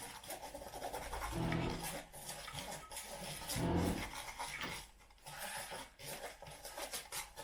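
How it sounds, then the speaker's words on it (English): Small bits of charcoal are stirred into hot pine pitch glue, making a rough, rasping scrape in repeated slow strokes, close up and fairly quiet, with no speech. "little bits of charcoal. Alright, and I'm going to stir it in like so. Stirring it in."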